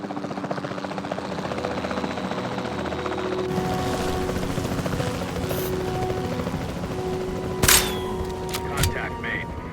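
A helicopter flies in the Jurassic World Evolution 2 video game with a continuous rotor thump and engine drone, steady and fairly close, while a few sharp bursts like gunshots or tranquilizer shots crack near the end.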